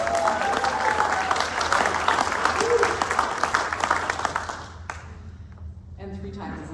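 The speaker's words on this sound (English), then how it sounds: "So another round of applause for Adam." An audience at a synagogue's annual meeting breaks into dense, steady applause that fills the room for several seconds, then thins out and fades into quieter room sound.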